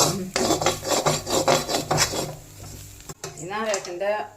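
A spoon scrapes and rasps rhythmically through Onam sadya-style kootu curry cooking in coconut oil in a pot, with repeated strokes up close, followed by a short voice near the end.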